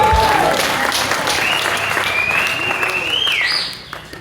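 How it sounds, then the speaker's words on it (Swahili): A church congregation applauds for Jesus, dense sustained clapping close and loud that fades away near the end, with faint voices mixed in. "Pigie Yesu makofi"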